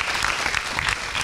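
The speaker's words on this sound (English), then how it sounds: "A round of applause to Rosemary." Audience at a school debate knockout between Malindi High and Kijiwetanga Secondary breaks into a steady burst of applause, a dense, even patter of many clapping hands sustained throughout.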